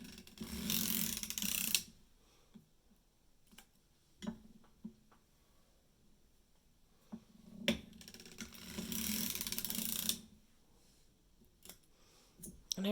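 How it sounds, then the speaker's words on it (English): Sock knitting machine needles being lifted one at a time: scattered close mechanical clicks and ticks, with two longer bursts of ratcheting crank noise at the start and end. "Now we just lift one needle at a time until we get down to my target needles."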